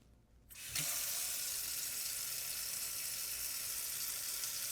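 Water from a kitchen faucet starts suddenly after a moment of quiet and then runs in a steady, hissing rush, close and unbroken.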